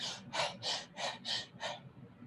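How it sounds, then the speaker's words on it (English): Rapid, forceful breathing cycles in and out, six quick rhythmic breaths in about two seconds, close and fairly soft, with no talking. "breathe out, breathe in, breathe out"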